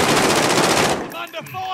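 Rapid machine-gun fire rattles loud and close in a video game, a dense burst that cuts off after about a second, followed by a few scattered shots and some faint voices.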